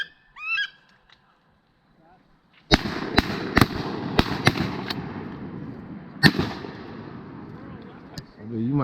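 Shotgun shots fired while duck hunting: a rapid string of about five sharp blasts, then one more, loud and close, outdoors with quiet waterfowl honks heard before them.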